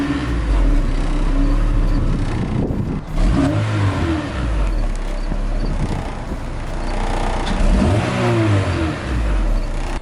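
A Honda DC5 Integra Type R on its stock Type R exhaust idles with a steady, close engine drone, with a couple of rising revs that swell and settle back to idle.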